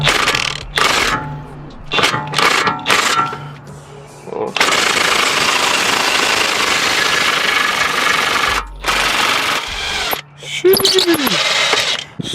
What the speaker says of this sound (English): use the impact for this bolt that's right here along the way